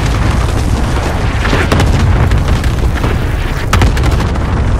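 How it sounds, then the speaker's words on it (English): Cluster strike bombs in Call of Duty: Modern Warfare detonate in a string of heavy, rumbling booms with sharp cracks at intervals, loud and continuous with no talk over them. "Cluster strike away."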